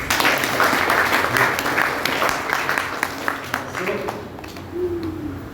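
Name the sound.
audience applause for a student's answer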